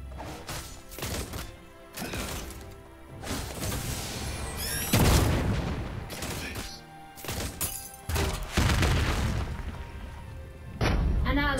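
Cannon fire in the video game Marvel Super War as War Machine, repeated heavy booms and crashing impacts at irregular intervals, loud and punchy, with someone talking over the action.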